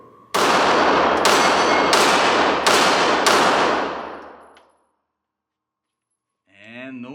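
Five loud shots ring out in quick succession from a Sig Sauer P365 XL 9mm pistol, each sharp crack trailing into echoing reverberation, then silence before a faint voice starts to speak.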